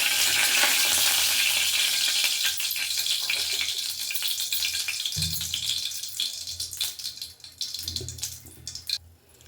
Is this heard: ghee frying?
yes